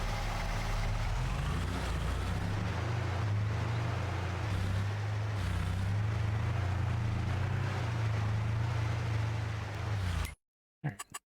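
Engine of a small truck driving in a farming video game, a steady low rumble with a rough, fluctuating drone held throughout before cutting out abruptly near the end.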